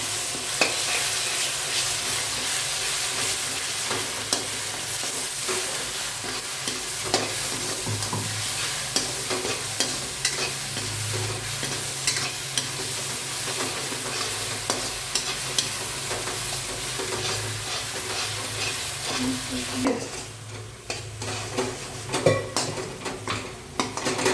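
Ridge gourd chutney paste sizzles in hot oil as a spoon stirs it, scraping and clinking against the pan in a steady, close-up, continuous frying sound with no talking.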